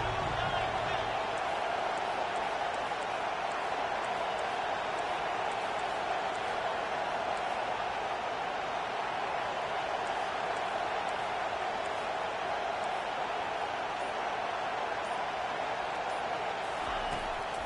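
A home crowd at a football game keeps up a steady, dense roar of cheering as the defense faces third down, with a commentator speaking over it.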